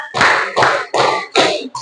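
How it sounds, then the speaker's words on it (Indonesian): Four loud, evenly spaced group claps from a class, sharp hand strikes close to the listener, with a fifth stray clap starting at the end. "Tepuk empat."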